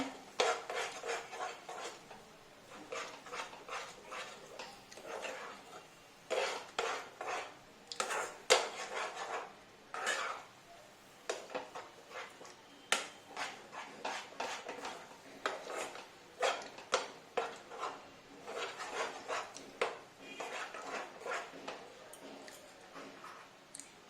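Cashews and raisins stirred in a metal pan with a spoon, steady scraping and clinking strokes repeating irregularly, fairly close and moderately quiet, with no talking.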